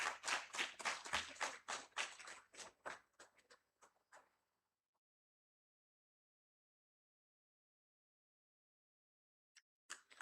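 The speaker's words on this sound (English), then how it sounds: "A huge round of applause for them." Conference attendees give a round of applause to best-paper award winners, a brisk burst of many hands that thins and fades out after about four seconds, leaving near silence broken by a couple of faint knocks.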